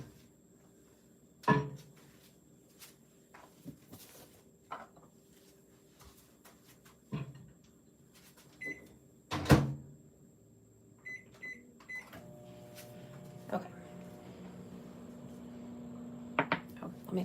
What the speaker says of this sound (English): Just gonna pop all of them back in the microwave for a few seconds to get soft again.